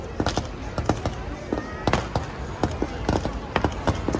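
Fireworks bursting over Darling Harbour on a Saturday night: a rapid series of sharp, loud cracks and booms in irregular clusters, with crowd chatter underneath.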